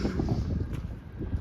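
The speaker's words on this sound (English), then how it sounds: "that is what a 25 to 30 mile an hour sustained wind sounds like" Strong sustained wind of 25 to 30 mph roars steadily across an outdoor farm setting, a loud, continuous low rumble with gusty swells and microphone buffeting throughout, no voices.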